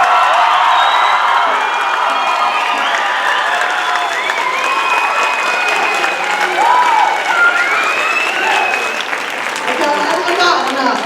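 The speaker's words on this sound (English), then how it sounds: "Can we get one more round of applause?" A crowd gives a loud round of applause at a graduation-style gathering, sustained clapping mixed with cheers and whoops throughout, with voices calling out over it.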